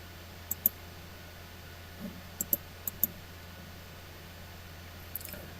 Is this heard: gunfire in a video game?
no